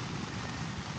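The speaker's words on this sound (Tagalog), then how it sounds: "Hindi na titigil tong ulan." Heavy rain drums steadily on a tent during a camping trip, a dense, unbroken patter close overhead with no pauses.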